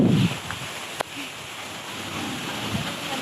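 Steady wind rushes and roars against the microphone, with a brief thump near the start and constant blustery noise throughout.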